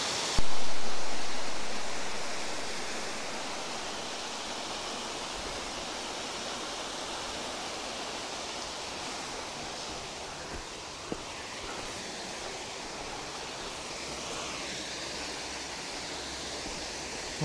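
Water flowing into a natural pool, a steady broad rushing wash that holds evenly throughout with no voices.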